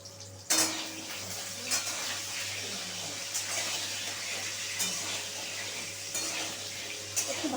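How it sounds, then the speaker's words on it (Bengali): Potato pieces fry with a little salt in a pan, a steady close sizzle broken by occasional sharp clinks and scrapes of a spatula stirring against the metal. "অল্প নুন দিয়ে আমি একটু ফ্রাই করে নেব"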